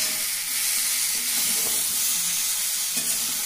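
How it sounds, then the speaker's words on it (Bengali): Cauliflower frying in hot oil for a Bengali vegetable dish, a loud, steady sizzle with soft scraping and stirring noises now and then, heard alone without talk. "ভালো করে ফুলকপিটা ভেজে নিয়েছি"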